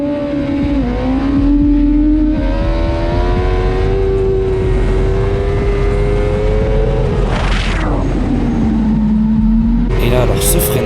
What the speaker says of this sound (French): encore un petit wheelie tranquillement et un freinage